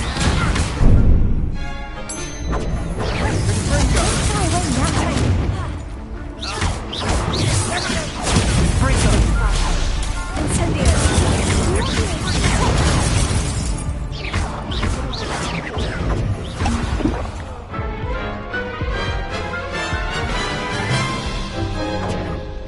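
Spell effects blast and crash in Hogwarts Legacy, a dense, loud run of magical impacts, booms and thuds layered over game music across the whole stretch, with brief voiced incantations mixed in.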